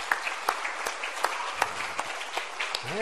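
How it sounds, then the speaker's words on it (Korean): Church congregation at a Sunday morning service applauding to encourage the elders, a moderate, steady patter of many hands heard from a distance in a large hall, fairly quiet with a few sharper claps poking through. "우리 장로님들 위해서 격려의 박수 한번 쳐주시죠."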